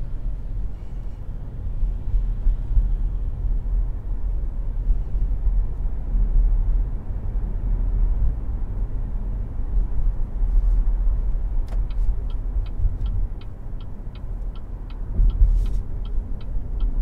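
A BYD Seal electric car cruising on a freeway, a steady low road and tyre rumble with wind noise filling the cabin, and a faint rhythmic ticking like an indicator late on.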